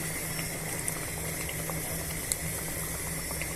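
Mutton biryani mixture boils steadily in a pot, a continuous soft bubbling with a few small pops, moderately quiet and heard alone.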